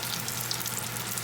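Apple pieces frying in oil, turned with a fork, a soft steady sizzle and crackle heard close up and fairly quiet.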